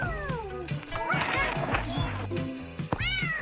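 A cat meows repeatedly while chasing a robot toy mouse, the rising and falling cries close and fairly loud over scuffling and clattering movement.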